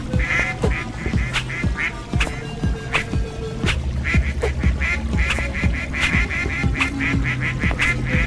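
Ducks quack repeatedly in the video game Hide Time, a steady run of loud nasal calls stacked over busy game music and effects, with no talking.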